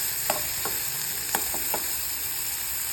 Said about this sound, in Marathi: मग छान कांदा परतत आला,